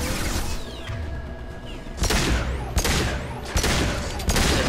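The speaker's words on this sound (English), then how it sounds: "4 or 5 shots with the phalanx." Phalanx pistol shots in Mass Effect 2, a few loud sharp cracks spaced about a second apart over a low game rumble and ambient hum.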